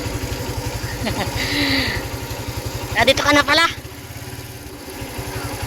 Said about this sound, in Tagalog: Ito na yung motor.